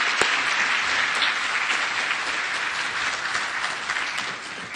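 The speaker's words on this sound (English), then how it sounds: "I just want to show our appreciation with a round of applause." A crowd's round of applause fills the space, dense and steady clapping from a large audience at an agriculture conference, sustained loud throughout before tapering slightly at the end.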